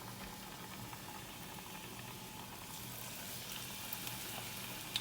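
Sardine fish balls fry in hot oil, a steady close sizzle and crackle that holds evenly throughout with a slight brightening toward the end, no talking.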